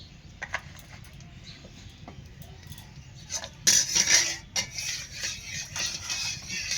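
Mustard oil poured into a hot wok, a bright hiss and sizzle that swells at mid-clip over low kitchen rumble, with scattered clinks of utensils before and after.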